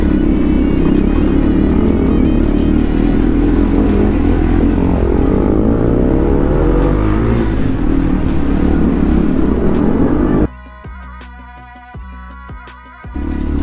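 A motorcycle rides along a road in a group ride of sport bikes such as a Dominar 400, KTM RC 390 and Duke 200, its engine droning loudly with wind rush before cutting abruptly to quieter clattering.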